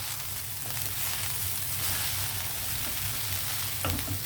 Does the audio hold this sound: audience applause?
no